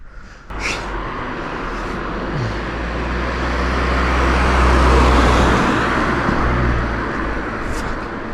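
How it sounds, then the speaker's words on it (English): A car approaches along a road in rural Albania, its engine and tyre roar swelling steadily from distant to loud and close, then easing slightly as it nears, with no talk. "Oh, I hear a car coming."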